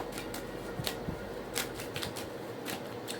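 Tarot cards are shuffled close up in quick, crisp riffling flutters and taps, quiet and without speech.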